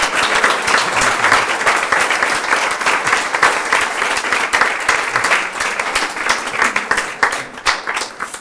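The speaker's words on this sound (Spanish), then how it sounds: "Así que, bueno, un aplauso." Sustained audience applause fills the room after a talk opening an exhibition on Leonardo Torres Quevedo in Pozuelo de Alarcón, steady dense clapping from a crowd, fairly loud and continuous with no speech over it.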